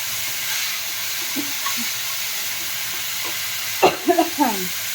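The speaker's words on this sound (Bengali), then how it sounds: "এই মশলাটাকে একটু কষিয়ে নেওয়া হচ্ছে" Spice masala with poppy seeds and melon seeds frying in a pan, a steady soft sizzle throughout with a few louder scraping stir strokes near the end.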